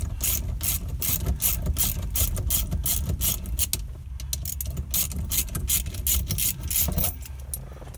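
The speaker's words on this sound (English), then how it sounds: "we simply tighten this bolt in the middle, and it's just going to pull that GT hub right off" A puller's center bolt being wrenched tight to draw a GT hub off, giving a steady run of rapid ratchet clicks and metallic creaks, close and fairly loud, with no talking.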